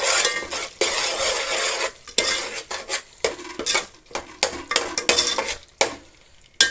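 Spices are stirred in a cooking pan with salt, a utensil scraping and clinking against the metal in irregular close strokes over a faint sizzle, with short pauses between bursts.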